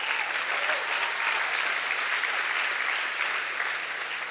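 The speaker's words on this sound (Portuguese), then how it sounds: "dê uma salva de palmas aí" A crowd at a church worship gathering claps together in sustained, even applause, a thick continuous patter of many hands that fades slightly at the end.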